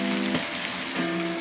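Pieces of squid hiss and sizzle loudly as they drop into a hot pan of sautéed tomatoes, a steady crackling fry with a brief stir-like bump.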